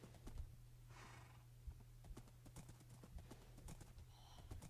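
Horse hooves clip-clop in a block-building survival video game, a quiet, steady run of soft repeated clicks with nothing else around them.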